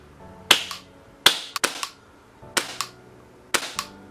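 A G.P. Airsoft MP9 airsoft gun fires sharp, snappy single shots, first without and then with a suppressor fitted, each crack followed by a quick mechanical click, spaced about a second apart at close range.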